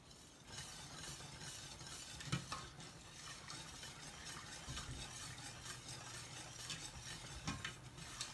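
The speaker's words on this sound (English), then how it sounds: "I keep stirring. This thing is getting thicker, but it's not there yet." A thickening béchamel-style sauce for Greek pastitsio is stirred in a pot, giving a steady soft scraping and bubbling texture with occasional sharper utensil taps against the pot, moderately quiet and without talk.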